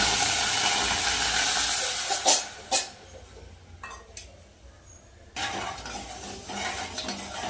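Sugar stirred in a hot bowl to make syrup for jibe goja, a steady sizzling hiss with a few sharp scraping knocks, then a quieter stretch before the sizzle returns.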